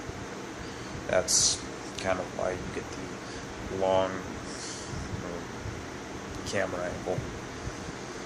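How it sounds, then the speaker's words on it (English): An electric fan runs in an apartment room, a steady soft whooshing hum under someone talking close to the microphone throughout. "Oh, sorry about the wind. I got my fan over there."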